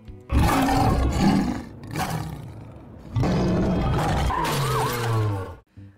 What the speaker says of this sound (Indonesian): ternyata dia berada dalam satu mobil bersama seekor singa